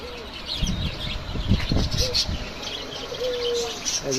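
Caged diamond doves coo softly alongside short whistled cockatiel calls at a bird market, fairly faint over low background rustle and bumps.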